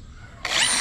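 A power drill bores into a 4-bar hinge of a traditional awning window, driving 8 by 1/2 metal screws; after a quiet moment the motor kicks in abruptly with a loud, steady, close whine.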